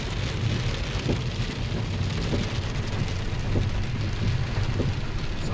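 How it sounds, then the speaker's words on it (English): Hail falls with heavy rain in a dense, continuous patter of small impacts and low rumbling that holds steady throughout, with no voices. "oh, that's a lot of hail"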